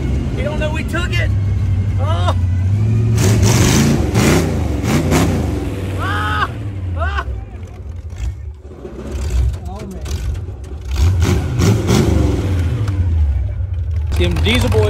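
The Grave Digger #1 monster truck engine revs and climbs through gear shifts, rising and falling loudly and close, with excited voices shouting over it.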